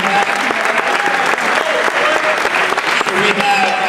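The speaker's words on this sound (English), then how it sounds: "one more round of applause before we get going" A crowd applauds warmly at a 2014 senior night ceremony, with loud, continuous clapping filling the whole stretch and no talk over it.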